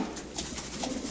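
A blue speckled racing pigeon gives a soft, low coo while held close. The sound is quiet and brief, with no talking over it.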